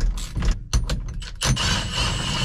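A puller works an old steering wheel off an '85 Chevy squarebody. Close, loud creaks and metallic squeals come in short bursts, then a sudden sharp pop as the wheel breaks free, followed by lingering mechanical rattle.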